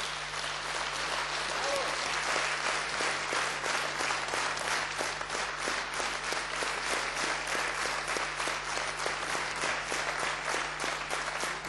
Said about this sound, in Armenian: բոլորս ծափահարենք մեր երջանկահիշատակ Խորեն Աբրահամյանին